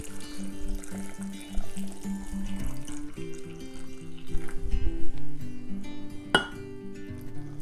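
Water pours steadily from a tap into a container being filled for homemade apple cider vinegar. It is a continuous splashing rush with a clink near the end, mixed under background music.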